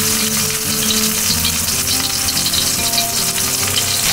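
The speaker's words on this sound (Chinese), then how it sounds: "那排骨它现在正在爆香了" Pork ribs sauté in hot oil with a loud, dense, continuous sizzle and crackle, close up, with no talking.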